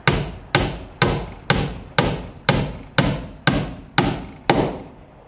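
Galvanized 2.5-inch roofing tacks are hammered into house wrap on a shed gable end: ten sharp, evenly spaced metallic blows about half a second apart, close and loud, with no talk.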